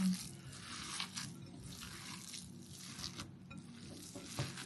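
Seasoned minced meat for lula kebab is kneaded and mixed by hand, giving wet squishing and slapping textures that swell and fade in irregular pulses, close and moderately quiet, with some faint background talk.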